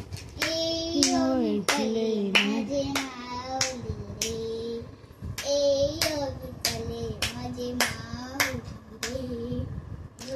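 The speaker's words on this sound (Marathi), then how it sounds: "असंच टाळी वाजवून खेळ." A little girl claps her hands in sharp, irregular bursts while playing, her voice singing and chattering between and over the claps.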